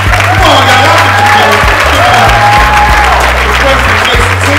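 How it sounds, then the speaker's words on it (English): Loud, close applause and cheering from the audience at an NAACP Freedom Fund Dinner in Meriden, Connecticut, with clapping mixed with whoops and shouts and voices heard through it. "I heard a lot of applause. Let's give it up."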